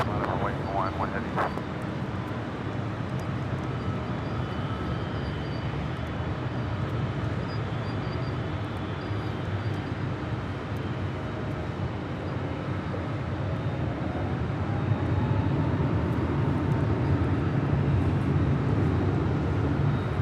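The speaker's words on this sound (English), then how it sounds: "This is Delta 652 about to depart to Orlando on an A321neo." A Delta A321neo jet departs Los Angeles International Airport bound for Orlando, its engines building a steady, broad roar that thickens and grows louder toward the end, heard from a distance with no talk.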